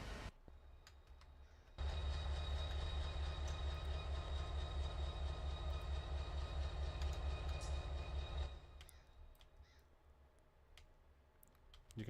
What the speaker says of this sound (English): this is a intermodal down to LA, a UP intermodal